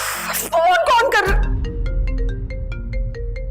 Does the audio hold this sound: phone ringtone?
yes